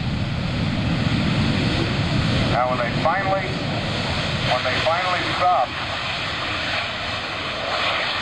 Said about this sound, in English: Here's the reversers. Listen to the roar.